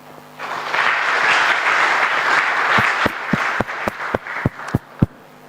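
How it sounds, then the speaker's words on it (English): Students in a hall at IPRC Kitabi break into loud sustained applause during a launch ceremony, a dense roar of clapping that thins out into a handful of separate, sharp claps before stopping. "Please, you can clap for yourself."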